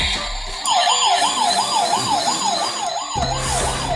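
A Maxx Action toy fire ladder truck plays its electronic siren, a steady warbling wail that rises and falls in a quick regular cycle, loud and close with a faint hum underneath.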